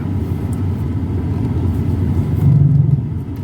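VW Golf creeping slowly forward in a straight line, a steady low engine and tyre rumble throughout with a slight swell near the end, no talking.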